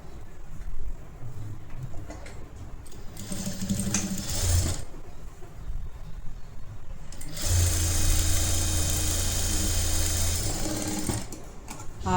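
A sewing machine stitches a netted designer blouse with a half-inch seam along the lower part, its motor running in short bursts with a steady whirring rhythm, close and fairly loud.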